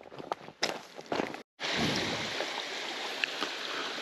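Small seasonal mountain stream running on the Appalachian Trail near Unicoi Gap, a steady broadband rush of flowing water close by, interrupted briefly by footsteps and a short gap before the continuous trickle resumes.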